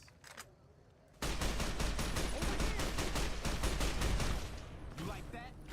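Plasma weapons fire in rapid, sustained bursts in Fallout: New Vegas, a loud dense volley that starts abruptly, holds for about three seconds, then drops off to scattered, fainter shots.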